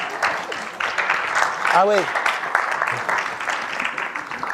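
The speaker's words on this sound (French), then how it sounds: "c'est bien la première fois que je me fais applaudir parce que je me casse la gueule" Audience applause at a motivational conference, a broad steady wash of clapping running throughout, with a voice speaking briefly over it.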